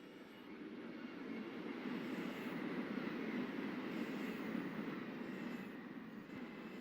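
Shinkansen bullet train running at low speed in the Trainz video game, a faint, steady low rumble and rolling drone that swells slightly in the middle and then holds, with no talking.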